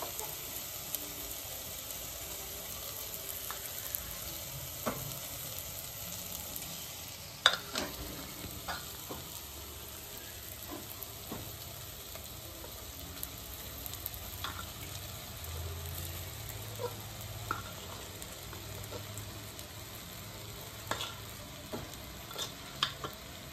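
Rice and mixed vegetables are stirred and fried on a flat tava for street-style pulao: a steady, close sizzle with frequent scraping and clinking spatula taps throughout, and no voices.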